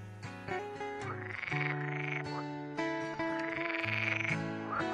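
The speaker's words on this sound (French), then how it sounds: "Dans ces fossés, la vie s'anime alors sous l'activité bruyante des grenouilles vertes." Green frogs croak loudly and repeatedly in overlapping, rhythmic calls, close by in a marsh ditch, with no voices.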